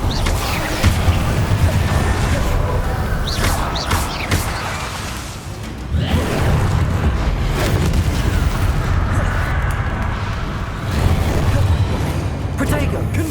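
Repeated Confringo fire spell blasts in the video game Hogwarts Legacy, loud booming explosions in dense succession over continuous game sound and a voice calling out spell names.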